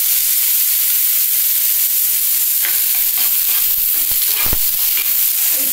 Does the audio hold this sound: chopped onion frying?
yes